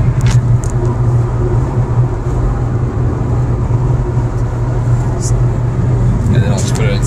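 A Ford Focus SVT cruising in fifth gear gives a steady, close engine and road drone with a low hum that stays constant throughout, and faint talk over it.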